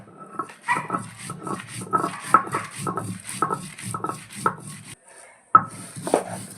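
Dried red chilies being ground on a traditional grinding stone, a steady rhythmic series of scraping, knocking strokes, close and fairly loud, with a brief pause near the end.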